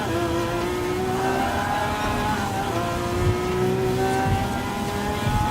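Lamborghini hypercars race in Gran Turismo Sport, their engines holding a loud, steady high-pitched whine with rising and shifting gear tones throughout, several cars overlapping close by.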